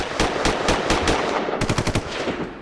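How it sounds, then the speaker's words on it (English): Gunshot sound effect in rapid automatic bursts, sharp cracks in a steady series, then a quicker cluster of shots, loud and close with no talk. "Gunshot."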